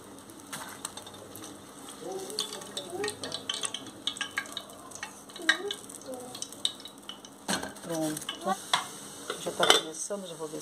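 Pastéis fry in a home kitchen pan, a steady low sizzle under frequent clinks and scrapes of utensils and pans, with loud clatters near the end.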